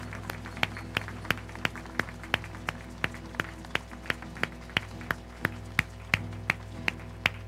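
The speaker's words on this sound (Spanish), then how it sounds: "Damos un aplauso a nuestra Madre Santísima." A church congregation at a Virgin of Guadalupe feast claps in steady unison, sharp single claps repeating at an even brisk pace over a low hum, fairly distant and without talk.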